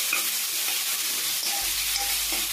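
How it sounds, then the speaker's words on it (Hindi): Peeled brinjal being mixed in a hot frying pan for bharta gives a constant sizzle with repeated scraping stirs of the spatula, close and steady, with no talking. "अब हम इसमें बैंगन डाल देंगे, हमने छील के रखा हुआ था, और इसको अच्छी तरह से हम मिक्स कर लेंगे इस तरह से"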